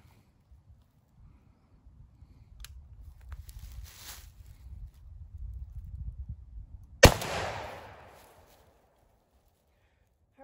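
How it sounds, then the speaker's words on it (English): Stevens 301 20 gauge shotgun firing a turkey load at an outdoor range, a single sharp loud blast with a short decaying tail, preceded by faint low rustling and handling noise. "We're going to shoot 30 yards."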